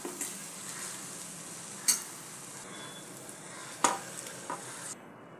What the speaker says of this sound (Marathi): साधं वरण घालूया.